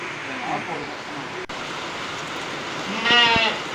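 Rams bleat briefly near the end on a rainy farm, a short harmonic call standing out over a steady wash of rain and background noise.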